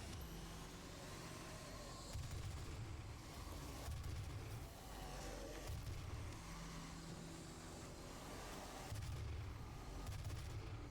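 Gunfire in the video game Doom 2016, a dense, continuous barrage of heavy shots and low rumbling blasts repeating in bursts, fairly quiet overall.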